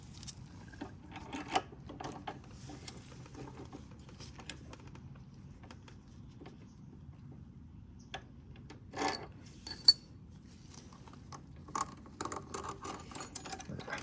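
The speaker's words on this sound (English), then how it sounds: "we're gonna get rid of this flat washer" A flat washer is removed from the rear suspension of a Razor E200/E300 electric scooter, with sparse, faint metallic clicks and light clinks of small parts scattered over a quiet background.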